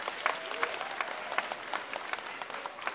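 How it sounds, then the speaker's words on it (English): An audience claps for young students after a school holiday concert, a steady round of many hands with individual sharp claps standing out, moderately loud and sustained. "Another round of applause for our students for their wonderful concert."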